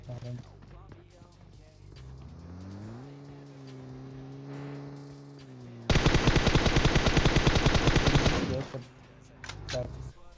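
A long, loud burst of rapid automatic gunfire from PUBG Mobile, preceded by a steady engine-like drone and some softer shots.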